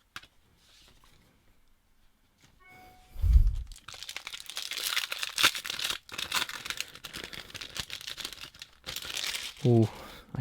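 Foil booster packs of Magic the Gathering Eldritch Moon cards crinkle and tear close up, with a low thump and then a long stretch of rustling wrapper, followed by a short spoken remark at the end.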